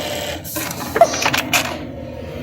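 A Brother RH-9820 eyelet buttonhole machine runs a short stitching cycle, a brief mechanical whir with rapid clattering stitches and clicks nearby, then settling quiet.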